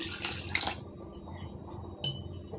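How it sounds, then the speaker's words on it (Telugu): Water is poured from a vessel into a curd-based batter in a home kitchen, a brief close splashing pour followed by a short clink and a second small splash. "అలాగే ఇందులో కొద్దిగా నీళ్ళు వేసుకుందాం."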